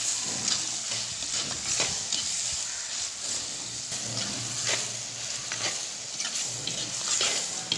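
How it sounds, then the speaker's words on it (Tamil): Ingredients for village-style fish curry sautéing and being stirred in a clay pot, a continuous close sizzle with repeated scraping strokes of the spoon against the pot. "தேவையான அளவு போட்டு நல்லா வதக்கி எடுத்துறலாம்"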